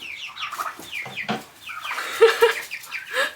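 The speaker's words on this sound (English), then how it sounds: "little chickie bumped into my camera stands" A small homestead chick clucks and peeps up close in a quick, irregular series of soft calls, with a few light bumps against camera stands in the middle of the sounds.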